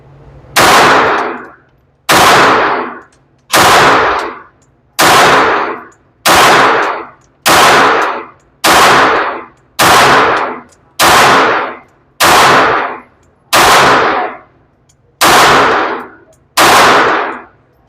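A .22LR firearm shoots at targets on an outdoor range, giving twelve sharp, loud reports spaced about every one and a half seconds, each with a brief fading echo.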